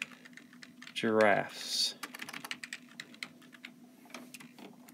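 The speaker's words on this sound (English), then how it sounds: "I'm going to type" Quick, light keystrokes tap on a computer keyboard in an irregular close patter, with a brief spoken word partway through and typing continuing underneath.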